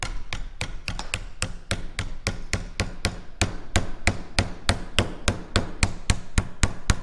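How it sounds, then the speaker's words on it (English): Rapid, steady hammer taps on metal ring out one after another, close and sharp, with no voices, during Hawker Typhoon fuselage splice plate riveting work. "you'll notice some of my favorite tools, my homely hammer, just to get things going here."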